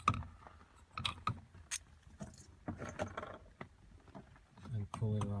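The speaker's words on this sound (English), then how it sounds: "You can unscrew it simply." Small screws being unscrewed from a Volkswagen Beetle ignition assembly, heard as close metallic clicks and scrapes in short bursts with some handling noise and occasional voice in between.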